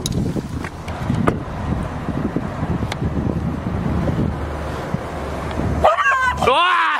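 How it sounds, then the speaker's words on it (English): Dogs bark and yip outdoors against steady wind noise, with a couple of sharp high whimpering yelps near the end. "There's two dogs just walking around my neighborhood."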